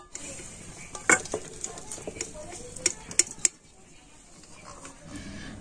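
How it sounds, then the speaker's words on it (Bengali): Stirring a dough mixture in a pan for an orange-filled pitha, with scraping and tapping of a utensil in an irregular rhythm, a few sharper clicks, and quieter bits of talking. "আর এখন আমি কন্টিনিউ নাড়াচাড়া করে একটা ডো তৈরি করে নেব।"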